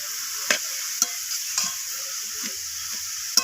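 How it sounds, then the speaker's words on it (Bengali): Cabbage sizzles in hot oil with panch phoron spices in a pan, a steady frying hiss with a few sharp scrapes and clicks of stirring. "তো বাঁধাকপিটাকে আমি ফোড়নের সাথে এইভাবে নাড়াচাড়া করে নিচ্ছি।"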